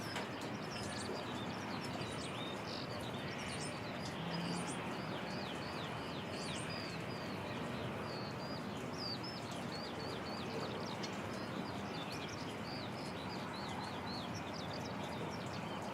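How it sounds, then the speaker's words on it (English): Birds chirp and coo steadily through rain and wind at Christchurch Airport in New Zealand, their repeated high calls scattered across a constant wet, windy background hiss with no talking. "Good to hear the birds are still out enjoying the wet weather."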